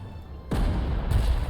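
Artillery in Panzer Corps 2 opens fire with a sudden heavy boom after a quiet start, followed by a rumbling roll and a second muffled blast, close and loud.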